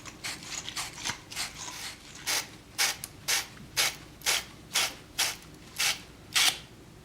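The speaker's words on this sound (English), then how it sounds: "we can sand down the outside of our pipes and the inside of our fittings with the abrasive material of your" Copper pipes and fittings are sanded with abrasive, a close, rhythmic rasping in about a dozen evenly spaced strokes, each a short scrape, with no voices.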